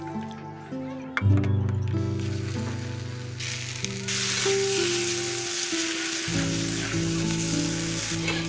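Grated coconut, salt, turmeric and poppy seed paste stirred in a pan for pineapple chutney, giving a broad hiss of sizzling that swells after a few seconds, under sustained musical tones and occasional talk.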